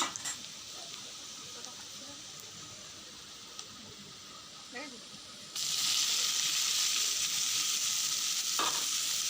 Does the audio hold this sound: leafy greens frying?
yes